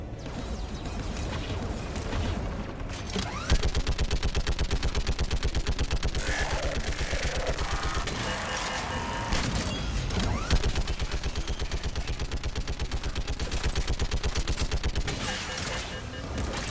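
Rapid automatic gunfire rattles in a Mass Effect 3 combat scene, dense bursts of shots repeating almost continuously for over a dozen seconds, loud and close with sharp impacts layered over a rumbling game soundscape.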